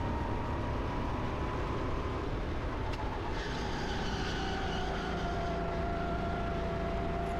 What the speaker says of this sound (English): Now again, you want to keep the rental kart wound up.